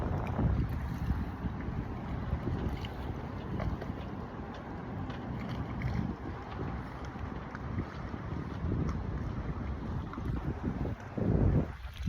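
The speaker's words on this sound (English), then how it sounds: "As those waves roll in" Ocean waves rolling in on an open, windy shore, a steady broadband wash with gusting wind buffeting the microphone, continuous and fairly loud with a brief swell near the end.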